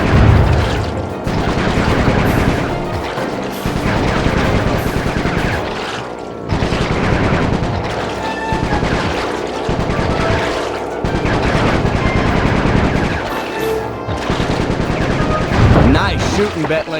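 Gunfire in the stealth game Sly 3: loud, rapid machine-gun bursts go on for the whole stretch, broken by short pauses and heavy booms, with voices mixed in.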